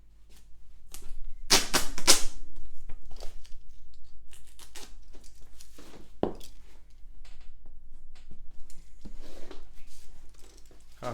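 Tape being pulled and pressed onto a cardboard box built for paintings, with a loud ripping burst of tape unrolling, then scattered close taps, rubs and crinkles over a low steady hum.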